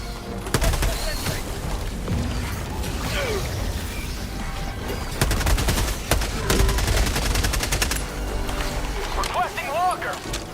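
A loud video game firefight with a grenade blast, repeated gunfire bursts and mechanical clatter, continuous and close, with voices talking over the action.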